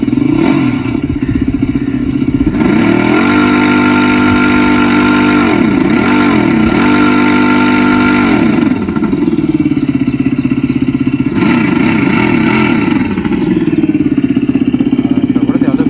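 Dirt bike engine sound effect played through the speaker of a Revolt electric motorcycle, a steady loud idle with repeated revving swells, continuous and alone throughout.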